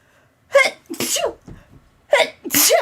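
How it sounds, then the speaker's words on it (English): Two pairs of loud, sharp sneezes burst out close by, each pair separated by a brief pause, with a faint breath between them. "Sorry, I got attacked by sneezes."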